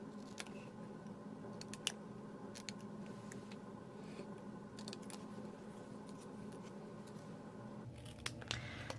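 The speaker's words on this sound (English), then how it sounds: "I just snipped the ends with my paper snips" Paper snips cut through cardstock in a series of crisp, quiet snips scattered across a hushed room, with a brief cluster of cuts near the end.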